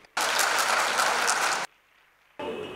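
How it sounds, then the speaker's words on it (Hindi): Loud, dense studio applause for a young contestant at a TV talent show grand finale, cut off abruptly after about a second and a half, then a short pause before another burst starts. "विहान पांडे के लिए एक बार जोरदार तालियां"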